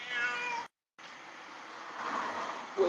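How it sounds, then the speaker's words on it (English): A cat meows several times close by, its calls cutting through a noisy live setting, broken by a brief dropout near the start. "Look at the cat."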